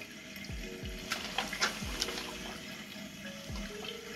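A tap runs steadily while soap is rinsed off hands, giving close splashing with a few low gurgling drops over a constant water hiss, without any talking.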